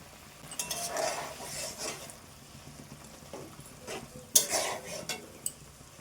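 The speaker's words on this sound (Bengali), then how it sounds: "এইবার আমি এই বেটে রাখা সর্ষের পেস্টটাকে দিয়ে দেব" Ground mustard paste going into a hot pan for a mustard fish dish: a gentle sizzle under scraping stirring strokes, light utensil clinks and one sharp metallic clink near the end, close by, no speech.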